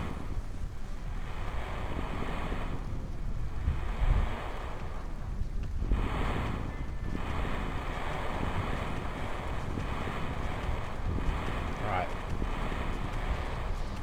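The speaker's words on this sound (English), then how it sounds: "you can hear the rain sounds" Steady rain storm in the Kerbal Space Program game, a continuous broadband hiss and rush with a low rumbling undertone, loud and unbroken over the whole stretch with brief dips.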